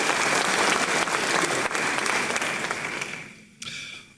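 Audience applause at a law school honorific lecture, a dense, steady round of clapping that holds loud, then thins and fades near the end with a brief final burst.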